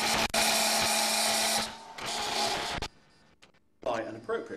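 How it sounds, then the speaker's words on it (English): A wood lathe runs with a loud, steady whine as a turned ring is parted off, cutting out twice with a short pause and quieter sounds between runs. "Bring the tool rest in, check for clearance, turn the lathe on"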